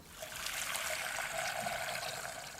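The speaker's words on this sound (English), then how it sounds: "I filled it with water, the tap bubbling quietly." Water runs and trickles steadily from a tap into a kettle, a soft continuous splashing that holds at an even level throughout.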